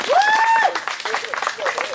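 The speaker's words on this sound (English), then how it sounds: "let's give Rue a round of applause." A crowd at a community event about public works applauds, opening with a loud, high whistle over the clapping, which then continues as a looser spatter of hands.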